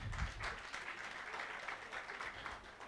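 Audience at a sanitation governance conference applauding after a speaker's closing remarks, a fairly faint, even spread of clapping heard from some distance, continuing steadily with no voices.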